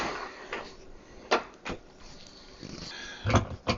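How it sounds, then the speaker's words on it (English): The bottom tray of a Frigidaire Gallery dishwasher is pulled out, a few quick rattling clunks and scrapes of metal racking over a quiet background. "open the door and pull the bottom tray all the way out"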